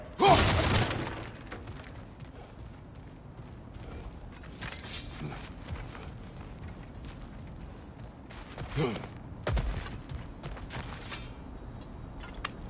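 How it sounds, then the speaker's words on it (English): In God of War Ragnarok, breakable objects smash loudly at the start, and more crashes and crunches of splintering debris follow near 5, 9 and 10 seconds over low ambient rumble. "Ah, back to smashing through things for fun and profit."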